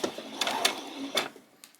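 Sewing machine running short back-stitch bursts on a peasant top, close and moderately loud, with uneven rattling pulses.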